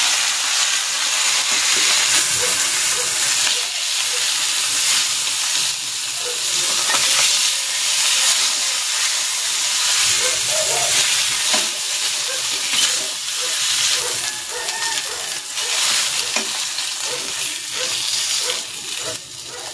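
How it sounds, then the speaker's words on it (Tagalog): Chicken pieces searing in hot cooking oil for home-style lechon manok, a steady broadband sizzle and hiss that holds loud and continuous throughout with faint stirring and clinks. "Maglalagay ako ng cooking oil. I-sear ko muna itong chicken."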